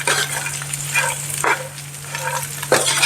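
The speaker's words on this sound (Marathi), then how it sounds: "परतून घेते मी।" Bread poha being sautéed and stirred in a pan, with a soft sizzle under a low hum and a few distinct scraping strokes of the spoon against the pan.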